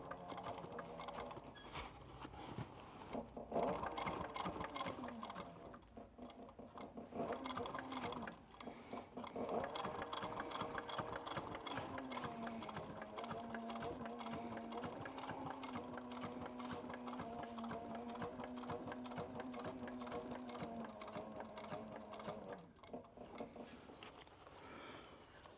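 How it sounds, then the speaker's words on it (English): A sewing machine stitching down the length of a leather duffel bag, running steadily and closely for most of the stretch with brief pauses and shifts in speed, no talking over it. "now I'm just going to stitch down the length of the bag once again."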